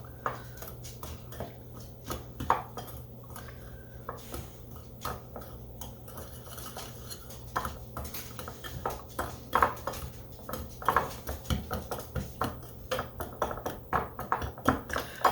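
A spoon or utensil clinks and scrapes in a bowl while butter is worked into a kuchen crumb mixture, with irregular taps and knocks growing busier toward the end, close and moderately quiet.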